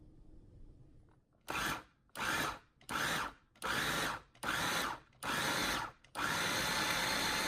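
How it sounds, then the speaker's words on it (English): Food processor blitzing a cooked onion and thyme mixture, running in six short loud bursts separated by brief pauses, then a longer continuous whir at the end, with no talking. "Next, put your onion mixture into the bowl of a food processor."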